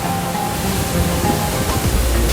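A waterfall roars loud and close as a dense, steady wash of falling water that fills the whole clip without any voices.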